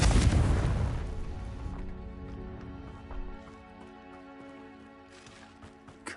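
A Confringo explosive spell blast in Hogwarts Legacy, one loud booming burst at the start that fades into a ringing tail under quieter game sounds and music.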